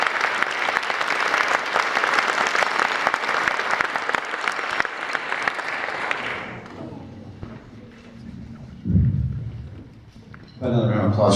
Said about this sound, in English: Another round of applause for Leah Sawyer.